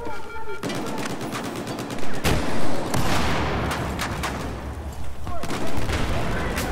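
Gunfire in the video game Battlefield 4 on the Zavod 311 map: dense, loud bursts of automatic fire and booming blasts, nearly continuous, mixed with players talking over it.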